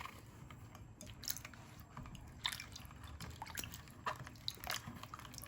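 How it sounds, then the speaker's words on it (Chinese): Water rinses salt residue off apples, giving soft, irregular drips and splashes with wet squishy handling, faint and close with no talking. "我们用水将表面的食盐残留冲洗干净"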